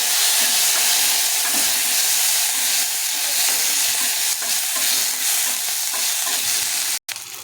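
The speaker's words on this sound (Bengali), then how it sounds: "এই যে আমার জিরে আর লঙ্কাটা সম্বার দিয়ে দিয়েছি" A tempering of cumin seeds and dried red chilies sizzles in hot oil, a loud, dense, close hiss and crackle that holds almost unbroken, with a brief clatter near the end.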